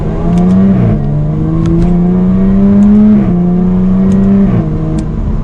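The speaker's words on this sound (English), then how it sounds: "if we put this into manual and dynamic mode, the active exhaust turns on" A 2021 Jaguar F-Type V6 active exhaust in manual dynamic mode, rising in pitch as it accelerates through the gears, with short dips at each shift; loud, close and steady throughout.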